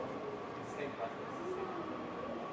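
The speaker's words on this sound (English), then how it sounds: "We're gonna subway to Gangnam now?" Low, steady rumble of a moving Seoul subway train, heard from inside as a constant hum with faint whines and rattles, fairly quiet.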